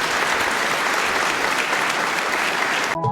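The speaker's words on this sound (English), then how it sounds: "applause." Conference audience gives a round of applause at the end of a talk, a dense steady wash of many hands clapping, fairly loud, cutting off abruptly at the end.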